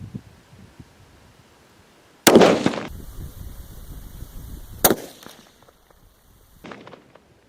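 A single sharp report from a Christensen Arms Summit Ti rifle, followed by a decaying rumble, then a second smaller crack and some faint handling noise afterward.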